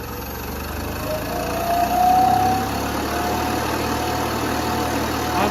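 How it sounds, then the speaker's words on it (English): New air compressor sold as quiet, running at full blast: a steady mechanical droning hum with broadband noise and a faint rising whine in the middle, continuous and close, with no talk. "That's it running at full blast."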